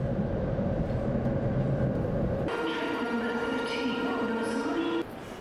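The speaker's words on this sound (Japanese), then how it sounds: "始発の新幹線で京都に向かいます" Inside the first Shinkansen bullet train of the day from Tokyo Station to Kyoto, a steady loud rumble runs throughout, then a bright tonal chime-like passage comes in partway and fades near the end.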